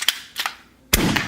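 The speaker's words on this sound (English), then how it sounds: "you can even transform it into a pistol. And it shoots bullets." Spring-loaded toy brick pistol firing bullets: a few sharp, close snapping clicks, two quick ones and then a louder shot, each standing alone.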